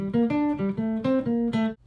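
Short bebop jazz phrase, a quick run of clean pitched notes moving chromatically and ending abruptly, clear and close with no talking.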